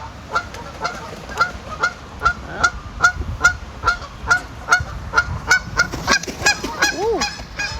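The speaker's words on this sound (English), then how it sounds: "I ain't never been that close with geese flying." A flock of geese flies low and close over a Japanese garden, honking loudly in a rapid, repeated series of calls that crowd together toward the end, with a whoosh of passing wings.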